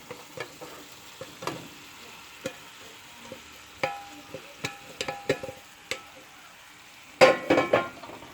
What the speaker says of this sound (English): And we will stir